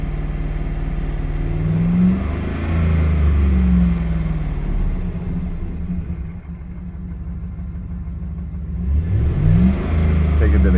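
A 2009 GM truck engine with a crank no-start fault, recovered after theft, runs with a rough, loud rumble, revving up and down a few times, with voices talking over it.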